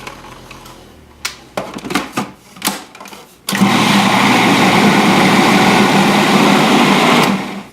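A blender mixes quinoa chocolate cake batter. Some clatter and taps come first, then the motor runs loud and steady for about four seconds and stops.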